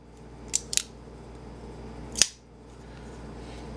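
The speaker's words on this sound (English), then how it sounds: "you're flicking the knife open" A Griptilian folding knife is flicked open by hand: two quick, crisp metallic clicks in succession, then a single sharp snap a moment later, close and clear against near silence.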